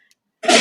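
A single person sneezes once, close and loud, with a sharp burst after a brief silence.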